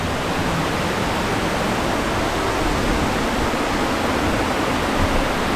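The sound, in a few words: waterfall at Hulugan Falls, Luisiana, Laguna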